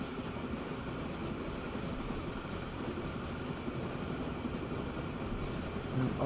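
A freight train rolls along in the rail simulation game Transport Fever 2, a steady low rumble of wheels and wagons that swells slightly near the end.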